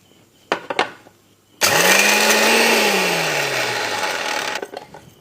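An electric mixer grinder grinds roasted garam masala spices in a loud, steady whir lasting about three seconds, a falling motor tone under coarse rattling, then cuts off, with a few handling clunks just before it starts.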